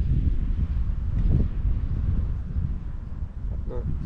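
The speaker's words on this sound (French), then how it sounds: "Bon, il faut jouer avec le vent là." Wind blows outdoors beside the wide River Meuse, buffeting the microphone with a low, gusty rumble that continues for the whole clip.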